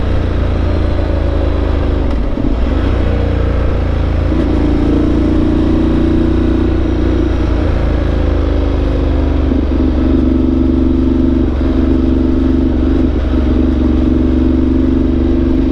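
A 2016 Ducati Multistrada 1200 Enduro motorcycle engine runs close and loud, holding a steady, throbbing idle with a few brief rises in pitch, and no one talks.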